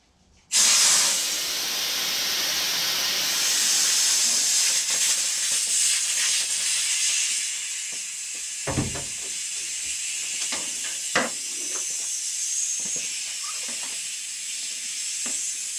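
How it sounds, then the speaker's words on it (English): An air compressor tank being drained lets out a loud, steady hiss of escaping air that eases somewhat after several seconds and carries on with small clicks and knocks. "I've got the air compressor in here, which we're going to drain right now."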